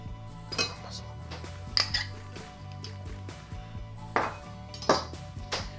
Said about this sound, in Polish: Na patelnię wlewam trochę oleju i wrzucam trochę masła.